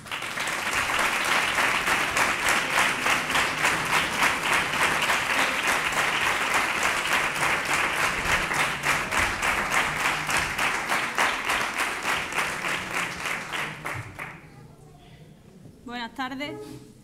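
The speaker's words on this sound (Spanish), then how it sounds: "Pido un fuerte aplauso para ella" An audience at a Three Kings parade proclamation event in Nerva gives sustained, loud applause for about fourteen seconds before it fades out, followed by a pause and then a voice beginning to speak.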